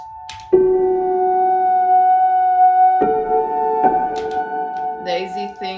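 A broken-piano instrument built in Ableton, layered with a Synthplant synth, rings out in sustained bright tones with a few struck chords and a shimmering decay, loud and close, with no speech over it.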